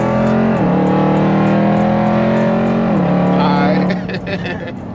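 An 850 hp Jeep Trackhawk launching at full throttle, a loud sustained engine roar heard from inside the cabin, its pitch holding steady and dipping twice before easing off near the end, with voices talking over it.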